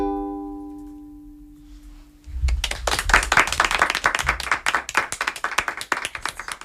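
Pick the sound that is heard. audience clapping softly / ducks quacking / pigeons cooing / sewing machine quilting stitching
audience clapping softly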